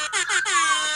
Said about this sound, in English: Changes anything I say into an air horn.